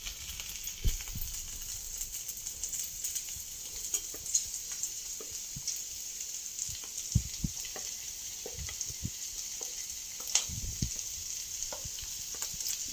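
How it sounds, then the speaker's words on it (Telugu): Ivy gourd pieces fry with half-cooked onions in a pan, a steady low sizzle punctuated by irregular clacks and scrapes of stirring every second or two, close-up and moderately quiet with no speech. "ఈ దొండకాయ ముక్కలు వేసుకున్నామండి."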